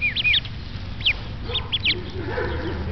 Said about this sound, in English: Look, your little duckies. It's a cute little duckies.